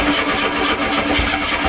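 A 1987 Volkswagen Jetta GL with a 1.8 engine cranks in a starting attempt, a loud close steady churning mechanical drone that continues throughout without catching clearly.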